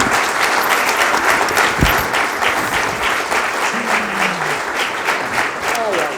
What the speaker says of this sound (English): Please join me in giving an applause to this fantastic panel.